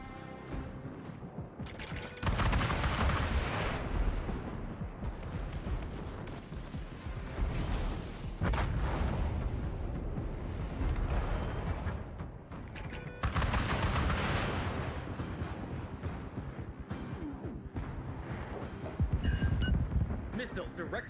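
Video game missile launches and impacts come as loud, dense booms and rumbling blasts in repeated bursts, with brief pauses between them and spoken game voices heard over the action.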